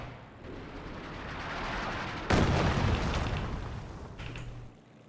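Artillery duel in the strategy game Company of Heroes 2 between an infantry support gun and a Pak anti-tank gun: heavy booming shots and explosions over rumbling battle noise, with one loud blast partway through and a fainter one later.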